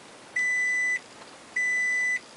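Reverse beeper of a second-generation Toyota Prius: two steady high-pitched electronic beeps about half a second long, separated by a short gap, clear and close over faint background hiss.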